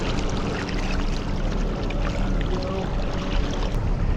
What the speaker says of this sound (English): motoring full speed, already out at the end of the bay right here.